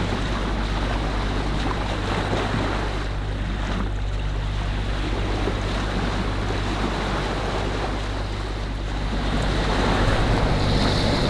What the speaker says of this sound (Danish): hvor vi har startet motoren, fordi der ingen rigtig vind er